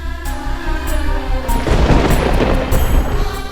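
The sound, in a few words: thunder during a storm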